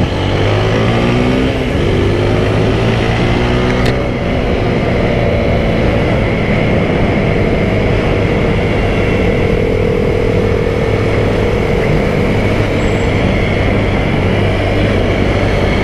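A TVS Apache RTR 160 4V motorcycle being ridden, its engine note a steady, loud drone blended with road and wind rush for the whole stretch, with no voices.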